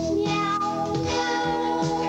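Cats meowing in a sung, melodic pattern over music in an '80s Meow Mix cat food TV commercial, several voices in harmony with repeated meows, loud and close, no talking.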